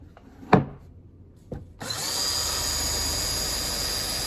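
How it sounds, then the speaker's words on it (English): A couple of sharp knocks, then a steady high-pitched power drill starts up and runs continuously at close range, drilling drainage holes in a plastic plant pot. "I need to drill some holes into my pot"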